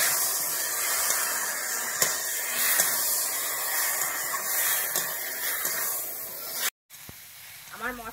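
Ground spice paste for Bengali pui shaak chorchori sizzling and frying in a pan, a steady close hiss with faint stirring clicks, cutting out briefly near the end before a soft voice-like sound.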